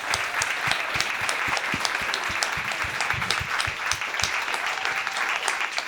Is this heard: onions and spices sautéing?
no